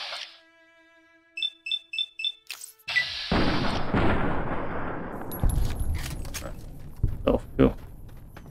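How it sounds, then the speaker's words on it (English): A few short tonal beeps give way to a burst of loud gunfire in Fallout: New Vegas, with sharp repeated shots cracking over a dense, noisy background. "Gunshots from Brim."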